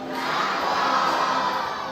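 An audience at a bird show shouts a parrot's name together in one loud, sustained group call, close and filling the space.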